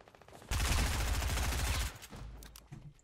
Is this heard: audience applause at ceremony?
no